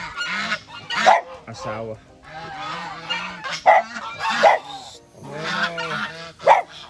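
Breeder geese on a farm honking loudly and repeatedly in close, overlapping bursts, with a voice speaking briefly between calls.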